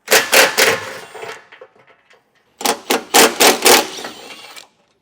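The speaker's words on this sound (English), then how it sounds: "I'm just going to take an impact and get them off of there" An impact wrench with an extension and 14mm socket spins bolts off a 2023 Subaru Forester during a trailer hitch install: two loud clusters of rapid, rattling hammer bursts separated by a short, quieter pause.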